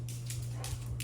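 A dog's claws tap on a studio floor in quick light clicks, a few short bursts, fairly close, over a steady low hum.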